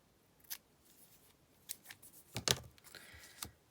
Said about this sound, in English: Trim off any little bits.